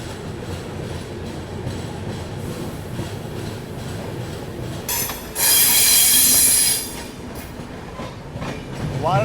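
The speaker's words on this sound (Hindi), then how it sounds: "फिलहाल अपनी ट्रेन जो है सब्जी मंडी स्टेशन को स्किप कर रही है।" A Shree Shakti AC Express train runs through Sabzi Mandi station without stopping, its wheels rumbling and clattering steadily, with a loud, high metallic squeal rising for a few seconds midway before easing back into the rolling noise.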